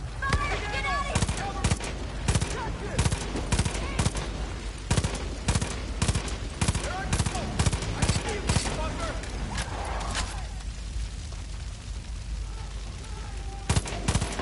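Rapid bursts of gunfire in the video game Far Cry 5, dense cracking shots and automatic fire coming close and loud in clusters, with players talking over it.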